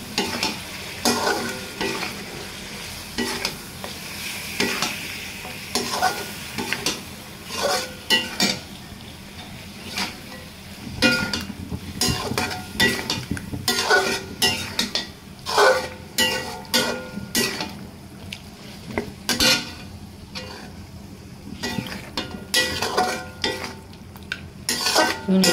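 Country rooster meat being stirred and fried with spices in a pan for a spicy village chicken curry, with continuous sizzling and repeated scraping and clinking of a utensil against the pan. No speech.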